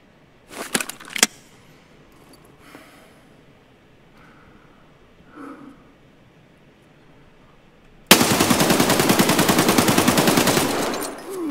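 Rapid automatic gunfire in the shooter game Escape From Tarkov, a loud sustained burst filling the last few seconds after quieter scattered sounds.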